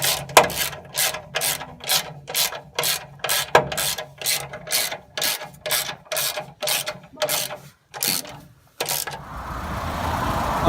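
Ratchet tightening the last bolts of a transmission mount on a Nissan Hardbody, a loud close series of rapid clicking bursts in steady strokes, followed by a brief rubbing noise at the end.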